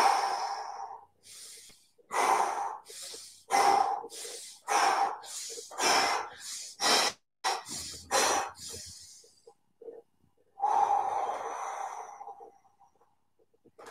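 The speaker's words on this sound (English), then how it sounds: "inhaling and exhaling in through the nose and out through the mouth as you move those arms" Breathing exercise with sharp nasal inhales and breathy exhales through the mouth, close and loud, repeating in an uneven rhythm of about a dozen breaths with a short pause before a final long breath.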